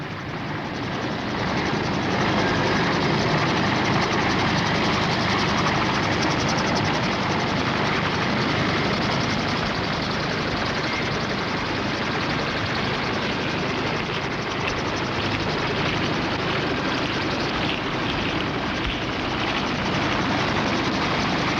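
A military helicopter in 1967 Vietnam evacuating wounded Marines drones loudly and continuously, a heavy, unbroken engine and rotor roar holding steady throughout.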